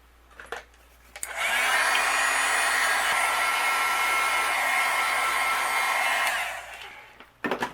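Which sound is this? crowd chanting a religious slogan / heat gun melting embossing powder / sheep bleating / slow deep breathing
heat gun melting embossing powder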